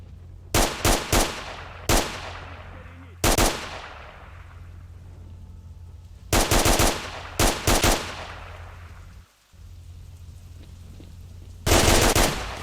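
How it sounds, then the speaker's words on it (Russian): Gunfire in the STALKER video game: several short, sharp automatic bursts ring out at medium distance, separated by quiet pauses, each crack followed by a fading echo. "Кто стреляет?"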